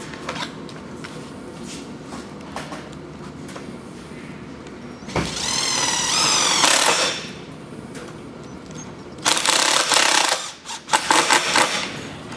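Tech screws are power-driven into the upper channel of a galvanized steel stall door, each run a loud rising whine lasting about two seconds, with a longer burst later, over a steady workshop background.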